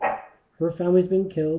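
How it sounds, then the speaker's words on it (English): A pet dog indoors gives a few drawn-out, whining barks in quick succession, close and fairly loud, just after someone briefly speaks. "Sorry about my dog."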